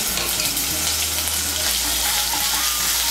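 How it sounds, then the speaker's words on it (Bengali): Ginger and fennel paste frying in hot oil for a Bengali biulir dal, a steady close sizzle with a low continuous hum underneath and no talking. "আদা বাটা আর মৌরি বাটাটাকে ভালো করে তেলের সঙ্গে মিশিয়ে নেব। মিশিয়ে নিয়ে একটু ভেজে নেব।"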